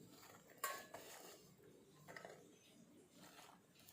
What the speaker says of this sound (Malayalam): പാത്രം അടുപ്പത്ത് വെക്കട്ടെ.